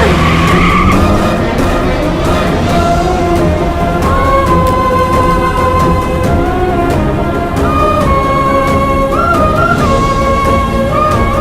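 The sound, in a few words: car driving off with skidding tires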